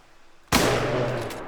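A single loud .270 hunting rifle shot in theHunter: Call of the Wild, in the Medved Taiga reserve, cracking sharply after a quiet pause and rolling off into a long echoing tail.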